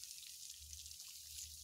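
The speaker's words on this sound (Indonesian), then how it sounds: "Siram lagi sama bapaknya." A hose waters dragon fruit plants on a farm, a faint steady hiss of spraying and trickling water with a low rumble beneath, no talk.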